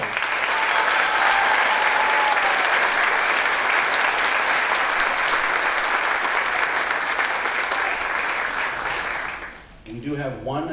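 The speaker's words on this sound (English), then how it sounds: "Give them a round of applause." Loud, sustained applause from an audience at a high school senior awards event honoring letter winners, dense clapping that holds steady for about nine seconds, then fades as a voice begins speaking.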